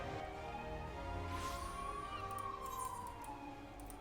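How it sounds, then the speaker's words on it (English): A siren sounds in the video game Final Fantasy XIV, a faint rising and falling wail that swells in the middle and fades, heard alone over a low game background. "And suddenly we hear the sound of... a siren."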